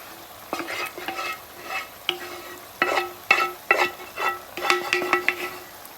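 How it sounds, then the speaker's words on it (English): Seafood pasta frying after the sauce goes in, loud close sizzling with busy stirring and a run of sharp utensil scrapes and clacks against the pan, no voices. "Now add the sauce."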